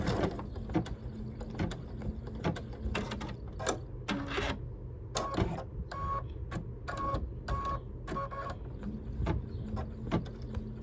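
An embroidery machine stitches a spring flowers umbrella design onto a towel, its needle hammering in rapid repetitive bursts with brief pauses and mechanical whirs between runs, close and steady with no talking.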